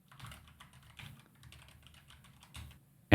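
Fingers type on a computer keyboard at a steady pace, a run of close, light clicks with brief pauses, and a louder knock at the very end; no one speaks.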